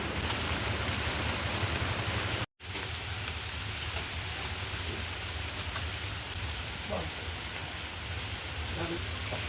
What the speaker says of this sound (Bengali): তার আগেই বৃষ্টি চলে এসেছে